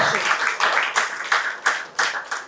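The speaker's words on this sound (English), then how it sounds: "Please join me in welcoming him with a round of applause" A small group of people clapping to welcome a guest at a campus event, sharp irregular claps in loose bursts nearby, with speech-like sound mixed in.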